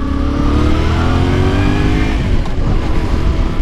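A 2023 Yamaha Ténéré 700 motorcycle being ridden during break-in, its engine droning loudly and steadily with rising pitch as it accelerates, heard up close along with wind rush.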